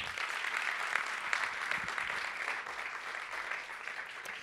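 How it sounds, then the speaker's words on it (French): At a Paris startup demo day, an audience claps for a CEO called to the stage, a steady wash of applause at moderate loudness heard alone for several seconds. "Merci de l'applaudir."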